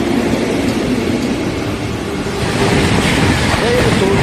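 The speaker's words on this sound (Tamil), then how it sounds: "இந்த ட்ரெயின் வரதுக்காக தான் நம்ம ட்ரெயினில் லேட்டாக டிபார்ட் ஆகிச்சிட்ருக்கு." A Chennai Central-bound Intercity Superfast Express train rumbles past nearby in a steady, loud roar with rattling wheels, and faint voices can be heard underneath.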